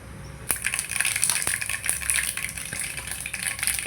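Cumin and mustard seeds sizzling in about three spoons of hot oil in a pan, giving a steady, fast crackle with scattered sharp pops, moderately loud and close throughout.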